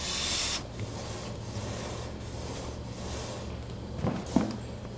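A blade is sharpened on wet and dry sandpaper with even pressure, giving soft, steady rubbing and rasping strokes, fairly quiet, with a couple of sharper scrapes toward the end.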